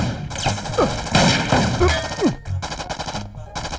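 Gunfire in a South Indian action movie dubbed into Hindi: bursts of shots and impacts crackle loudly and densely across the clip, mixed with crashes and score, with brief gaps in the barrage.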